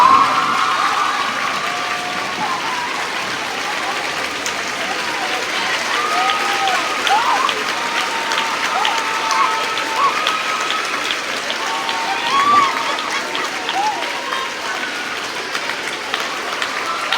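School audience at an awards assembly for an honours blazer giving sustained, dense applause that stays steady and fairly loud throughout, with faint voices underneath.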